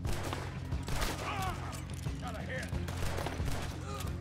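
Gunfire in the video game Red Dead Redemption 2, a steady, dense barrage of shots under a constant low game rumble, with faint whistling and scattered background effects throughout.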